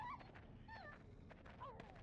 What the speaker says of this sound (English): I hear a puppy, and that makes me sad.